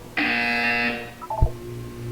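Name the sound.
buzzer in the video game Portal 2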